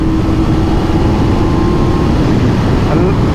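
Motorcycle accelerating hard in second gear up to about 11,500 rpm: a loud, continuous close engine roar buried in heavy wind rush, with the rider talking over it.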